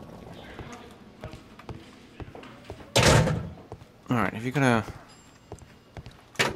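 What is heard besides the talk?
door sound in the Sherlock Holmes Crimes and Punishments video game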